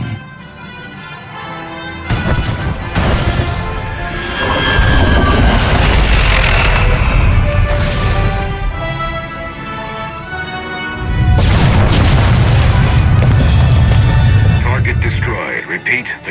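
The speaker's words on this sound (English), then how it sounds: "All ships are clear. Proceed with the detonation. Boom." A massive detonation destroys the Gauntlet in Star Wars: The Old Republic, a deep rumbling explosion that swells twice across the clip, loud and sustained beneath game music and effects.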